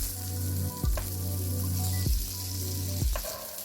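Jackfruit pieces frying in hot ghee give a steady close sizzle, broken by three sharp clatters of a utensil against the pan; there is no talk.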